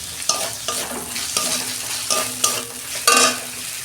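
Tomato, onion and ginger-garlic paste fry in a pan, with steady sizzling broken by regular scraping strokes of a spatula roughly every half second, close and alone.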